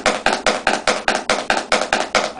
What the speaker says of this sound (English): So you ever hear guys that play a roll and it sounds like this?